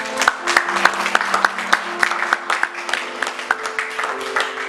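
A church congregation applauds and cheers in praise, a dense, steady wash of rhythmic clapping with raised voices mixed in, loud and close throughout.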